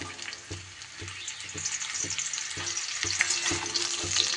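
Three dried red chillies fry in hot bran oil as a tempering for a berry pickle, producing a bright continuous sizzle with faint regular knocks of stirring beneath.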